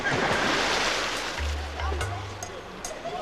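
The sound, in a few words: water at the Olympic swimming pool in Munich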